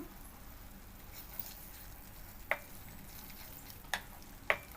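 Masala spices frying in a pan for egg drop curry, a soft steady sizzle with a few sharp clicks and taps of a spoon against the pan, faint and close.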